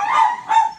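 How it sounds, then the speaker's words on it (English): Two short, loud barks from dogs indoors, close by, the second following about half a second after the first, with no talking. "my dogs are barking"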